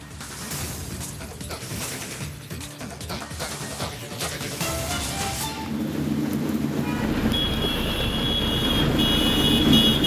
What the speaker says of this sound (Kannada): ಸಂಜೆಯಿಂದ ಸುರಿತಾ ಇರುವ ಮಳೆ ಈಗಲೂ ಕೂಡ ಮುಂದುವರೆದಿದೆ